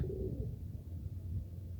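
Soft, low cooing from a young pigeon, steady and close, over a faint background hum.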